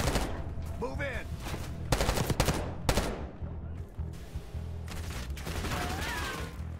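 Video game gunfire in a Call of Duty Black Ops 6 campaign mission: loud, close bursts of rapid automatic fire crack in clusters, with short gaps and a faint voice in the background.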